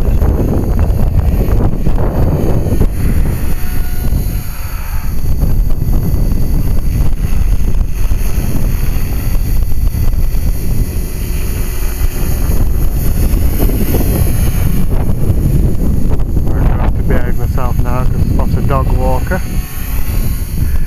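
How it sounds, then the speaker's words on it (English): Strong wind buffets the microphone throughout, a loud rumbling roar with the faint whirring engine of a flying RC helicopter in the background and a voice speaking over it. "Oh, it's windy up there"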